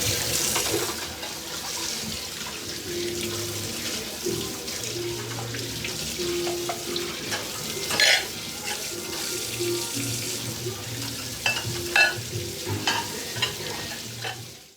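Water runs steadily from a tap into a sink while pots and utensils clatter and scrape, with occasional louder knocks; no talking.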